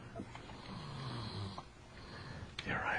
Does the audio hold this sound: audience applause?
no